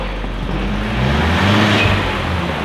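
A barn-find Gemini car drives along, its engine a steady loud rumble with a broad rushing roar that swells slightly in the middle, close by and with no talk.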